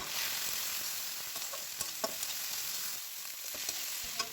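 Onions sautéing in oil with chili powder, turmeric and ginger-cumin paste for a fish-head murighonto, a steady soft sizzle with a few light spatula scrapes and taps, no talking.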